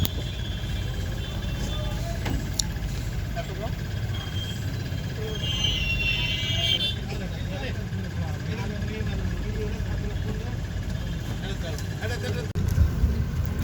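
Inside a bus during heavy rain, a constant low rumble and hiss of rain and engine runs throughout, with a few faint knocks and clatters nearby.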